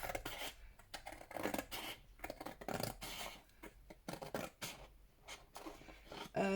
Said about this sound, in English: So I'm just gonna trim my white lines off.